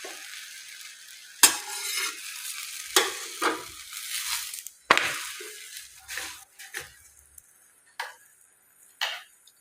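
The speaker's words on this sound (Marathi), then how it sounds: "आता आपण तव्यावर पोळी शेकून घेणार आहोत" Jaggery flatbread sizzles softly in ghee on a hot griddle, broken by sharp scraping and tapping sounds at irregular intervals.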